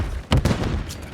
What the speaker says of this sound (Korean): 기절 수류탄 간다